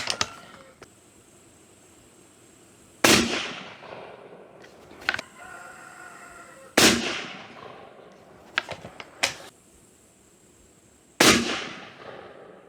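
Four loud, sharp rifle shots fired as a group at a target, spaced several seconds apart, each with a ringing outdoor echo tail, with small handling clicks in between.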